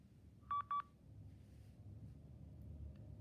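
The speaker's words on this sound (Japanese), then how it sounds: "宮内庁に電話をかけました。" Two short, clear telephone keypad tones sound in quick succession while dialing the Imperial Household Agency, over a faint low background hum that continues afterward.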